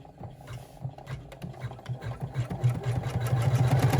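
An embroidery machine stitches in the hoop, sewing an inset zipper pocket onto a bag flap, with a rapid rhythmic mechanical chatter that grows steadily louder and busier over the few seconds.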